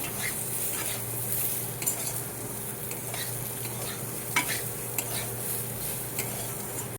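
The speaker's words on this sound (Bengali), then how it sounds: "নুনটা দিয়ে নাড়াচাড়া করে ডালটা দিয়ে দেবো" Vegetables stirred in a pan with salt and fried dal, a steady close sizzle with scraping stirs and a few sharp utensil clicks against the pan.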